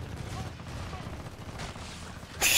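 Bursts of gunfire in Gears of War 4 multiplayer crackle densely and continuously at close range, ending with a sharp loud blast.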